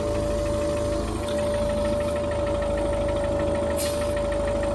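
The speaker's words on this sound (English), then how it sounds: "Pump. You can hear down here." Range Rover P38 air suspension compressor pump running with a steady, even mechanical drone and a constant hum, heard close up and alone without talk.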